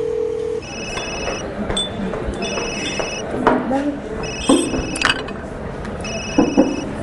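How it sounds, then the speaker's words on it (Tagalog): Telephone ringing with an incoming call, a repeating electronic double-tone ring in regular bursts about once a second, fairly loud, with people talking and moving around it. "Oh, si Sarah yung tumatawag"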